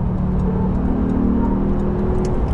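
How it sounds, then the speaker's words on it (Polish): A Porsche 911 Carrera GTS (991.2) engine revs and hums loudly up close, a steady throaty drone with no one talking. "Charakterystyczny dźwięk silnika"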